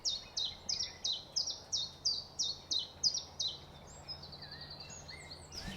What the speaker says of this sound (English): Just loads of birds, bees. So nice.